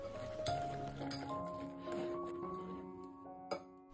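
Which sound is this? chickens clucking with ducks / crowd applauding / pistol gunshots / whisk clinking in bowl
whisk clinking in bowl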